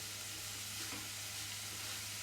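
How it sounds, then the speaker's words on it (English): Vegetables for ratatouille sizzle steadily in a pan over high heat, a dense, even frying hiss that stays constant and close throughout, no voices. "I'm just going to stir that around on a high heat until it sweats"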